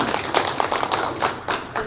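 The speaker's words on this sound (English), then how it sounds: "Let's give you guys a round of applause." A small audience at a community charity celebration claps for a couple of seconds, close by and fairly sparse, with individual hand claps standing out in an uneven rhythm.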